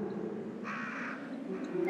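A crow caws once in the middle of video game play, a single harsh call over a steady low background hum, with a brief tone near the end.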